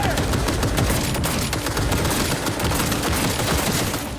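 Dense, continuous gunfire from Cyberpunk 2077, a steady barrage of overlapping shots filling the whole stretch at high, even loudness with no pauses.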